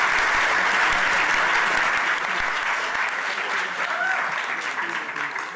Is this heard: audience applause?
yes